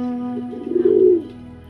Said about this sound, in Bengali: এই হচ্ছে আমাদের কিং কবুতর